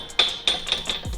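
Metal chains rattling and clanking as a bar is flexed, giving several sharp, bright, irregular clinks close by within about a second, with no talking.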